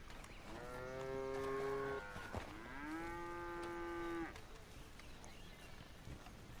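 Cattle in a video game give two long, drawn-out moos one after the other, fairly close and clear, over quiet outdoor background noise.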